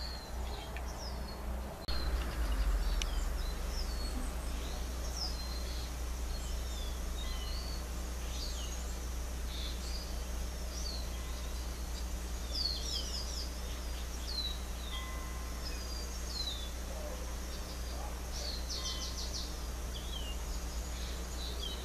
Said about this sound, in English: I hear the birds singing.